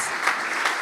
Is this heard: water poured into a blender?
no